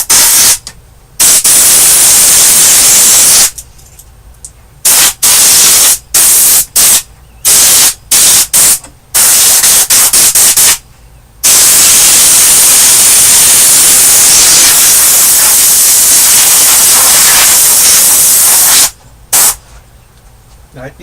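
Compressed air at about 50 psi blasts dust out of a Mesa Boogie .22 Caliber tube amp chassis, loud close hissing bursts that start and stop in quick pulses before one long sustained blow.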